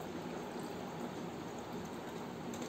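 Liquid base solution is poured into an acid in a lab beaker, giving a quiet, continuous trickling stream with no voices.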